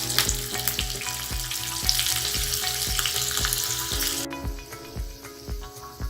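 Curry leaves hit hot tempering oil for kokum sol kadhi, crackling and sizzling loudly with rapid popping, then settling into a softer spitting fizz as the heat dies down.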